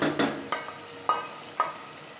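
Fried onions are stirred into mutton curry over a high flame: a low sizzle under four distinct scraping strokes of a spoon against the pan.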